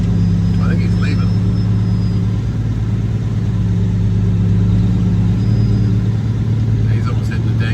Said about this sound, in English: we'll spin around and get our trailer backed up